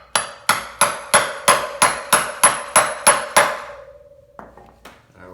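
Ten evenly spaced, ringing metallic hammer taps on a socket seat a seal over a motorcycle wheel bearing, loud and close, then a couple of lighter clinks.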